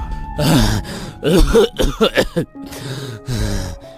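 A man coughs and clears his throat in several rough bursts, with harsh, strained breaths between them, loud and close.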